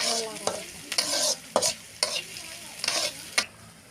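Chopped onions frying in a pan give a steady close sizzle, broken by several sharp scraping stirs at a fairly regular pace, with no voices.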